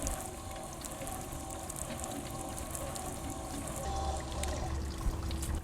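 Water pours steadily onto soil in a simulated New Mexico summer rainfall, a continuous close splashing trickle and patter with a slight swell toward the end.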